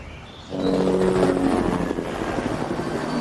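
A steady, loud helicopter drone with low rotor rumble and engine whine, rising in after a quieter opening and continuing without any voices.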